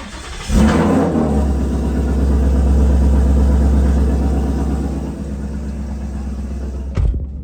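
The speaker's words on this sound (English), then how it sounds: "I do have a warm start for you guys. So let's get in here, turn it on." A warm Ford Mustang GT with the 5.0 engine cranks and catches about half a second in, then settles into a loud, steady, deep idle rumble that holds close by for several seconds.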